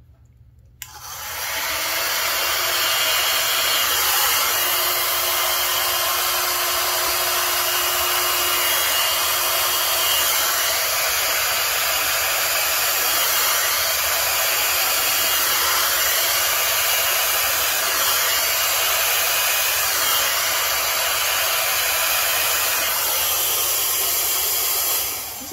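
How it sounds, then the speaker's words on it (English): A hair dryer blows on an acrylic paint pour, starting after a brief quiet moment and then holding a steady, loud, close whooshing hiss until it cuts off at the end. "Before I hit it with my hair dryer."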